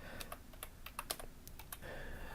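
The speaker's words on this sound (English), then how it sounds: "now I'm just going to type in some numbers" Numbers tapped out on a computer keyboard, a quick close run of distinct key clicks in an uneven rhythm, alone without talk.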